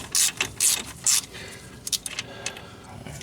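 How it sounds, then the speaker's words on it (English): Ratchet with a 1/2 inch socket turning a front wheel hub bolt on a Grand Am, giving a few quick bursts of close metallic clicking, with short pauses between strokes. "a 1/2 inch socket works better than the 13 on this bolt so far"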